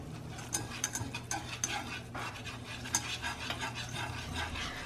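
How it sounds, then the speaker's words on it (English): A whisk scrapes briskly through flour and fat in a pan as the roux forms, a close, steady rasping stir marked by light clicks of metal against the pan, with no talking. "we added our flour, and you just whisk this in"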